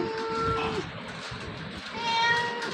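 A cat meows a couple of times up close, drawn-out plaintive cries with a short pause between, over soft background noise.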